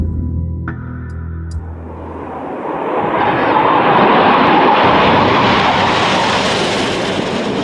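Russian fighter jet, a MiG-29 or Su-27, flying by with a broad engine roar that swells loud and stays heavy after a quieter low rumble at the start.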